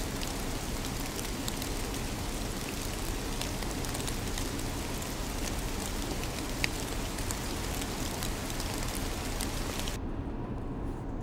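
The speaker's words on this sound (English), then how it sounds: "Leaves Falling in Colorful Autumn Forests with Light Rain and Wind in Treetops" Light rain falls steadily on colorful autumn forest leaves, with wind in the treetops, making a continuous, even, close patter that holds at the same level throughout.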